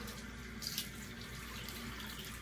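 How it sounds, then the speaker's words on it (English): Warm water runs steadily from a bathroom tap into a sink for a face rinse after shaving, a continuous close hiss and splash with no talking. "I always do 2 warm water rinses."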